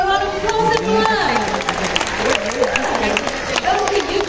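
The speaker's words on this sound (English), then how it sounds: "Can we give her a round of applause" An amphitheatre bird show audience claps and cheers steadily, a crowd of hands over the short span, with a voice talking on top throughout.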